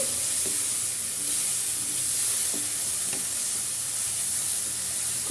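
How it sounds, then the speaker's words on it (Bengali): Spices sizzle steadily in a pan with a little water while being sautéed for a chicken curry with papaya, a continuous close hiss broken by a few faint stirring clinks. "এরপর মশলাগুলো একটু পানি দিয়ে কষিয়ে নেব যেন মশলাগুলো শুকনো মশলাগুলো পুড়ে না যায়"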